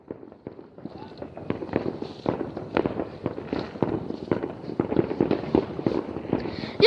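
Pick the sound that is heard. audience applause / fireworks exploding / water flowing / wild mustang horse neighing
fireworks exploding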